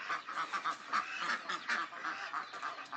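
Yi Liang ducks on a Thai farm quack and honk in a dense, overlapping chorus, with many birds calling continuously and fairly close at moderate volume.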